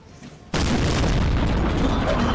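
Cannon fire from 5-pounder guns in a Napoleon: Total War battle at Wagram, 1809: after a quiet half-second, a sudden loud boom breaks into a dense, sustained roar of overlapping artillery blasts.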